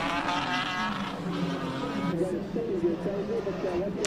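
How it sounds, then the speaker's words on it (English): A BMW M3 CSL race car on a hillclimb run, engine note rising and shifting as it passes, with a commentator talking over it throughout. "It's one of the only proper M3 CSLs in South Africa."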